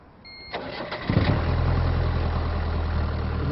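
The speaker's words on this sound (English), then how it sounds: "Let's see if we can hotwire this baby." A hotwired car's engine cranks with a brief warning chime, then catches and fires up, settling into a steady, rumbling idle heard up close.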